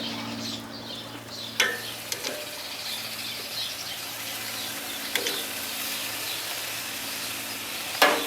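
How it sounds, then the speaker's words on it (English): Caribbean red jumbo shrimp, peeled and deveined, sizzle on an oiled pan on a Weber Genesis grill with a soft, steady hiss, broken by a few sharp clicks and taps, and no talking. "Putting these beautiful 13 to 15 pound Caribbean style shrimp on my Weber Genesis grill"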